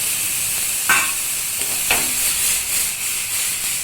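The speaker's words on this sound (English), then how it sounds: "Now I will add some paneer" Paneer sizzles steadily in a hot frying pan during pasta cooking, with a few sharp clinks and scrapes as it is tossed, and no voices.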